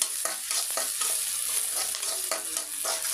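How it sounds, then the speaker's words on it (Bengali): Onions and chilies crackle and sizzle in hot oil on a stove, with occasional spatula scrapes and stirring knocks over a constant frying hiss. "আমি পেঁয়াজ মরিচ দিয়ে দিলাম চুলার উপরে"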